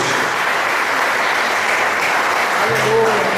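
A church congregation applauding, a dense steady roar of clapping with no gaps, loud and close, with a faint voice rising near the end.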